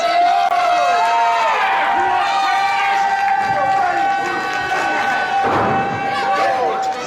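A hyped-up crowd at a KCXW wrestling show cheers and roars loudly and steadily, with whistles and shouts sustained throughout and a commentator's voice running over the noise.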